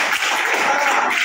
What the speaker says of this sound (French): Applaudissez le président.